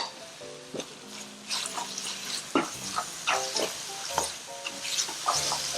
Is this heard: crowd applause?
no